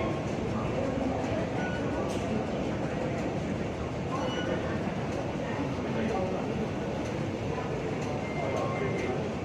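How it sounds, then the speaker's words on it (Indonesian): An underground subway train rides through Hong Kong, a loud, steady rumble of wheels and carriage noise with faint metallic clicks and squeals running throughout, while a voice talks over it. "Ini aku naik kereta bawah tanah ya guys ya. Kereta di bawah tanah."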